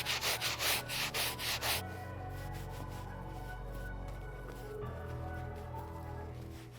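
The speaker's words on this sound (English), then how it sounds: "Best way to clean it up is by giving it a good scrub before you put it in the wash." A medium bristle brush scrubs the insole of a Jordan 4 "Brick by Brick" sneaker: quick rhythmic strokes at first, then softer, steadier rubbing close by, with no talking.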